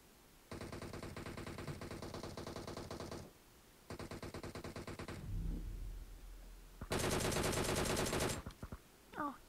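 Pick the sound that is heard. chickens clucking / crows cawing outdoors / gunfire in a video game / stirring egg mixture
gunfire in a video game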